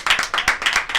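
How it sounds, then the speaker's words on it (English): An audience at a bar talk show claps in a quick, loud, rhythmic burst of about half a dozen sharp hand claps close together. "Let's clap it up for the beautiful."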